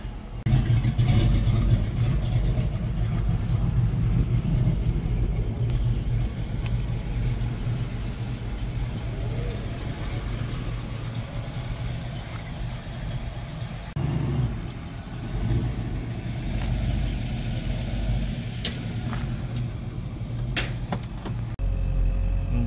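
A car engine idles and runs steadily while warming up, a continuous low rumble throughout with slight fluctuations in level.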